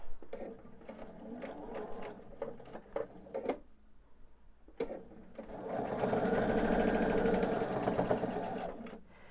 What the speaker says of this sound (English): flip it over, and sew my 1/4 inch